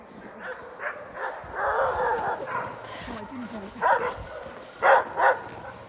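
Sled dogs at a commercial dog sledding operation bark and yip in short bursts, several sharp yelps standing out near the end, mixed with close, continuous human talk.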